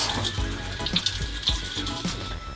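Lukewarm water runs steadily from a bathroom tap while someone wets their face, with splashing and dripping bursts over the continuous stream, close and fairly quiet, no talking.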